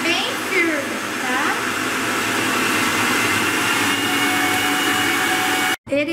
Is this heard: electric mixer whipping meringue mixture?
yes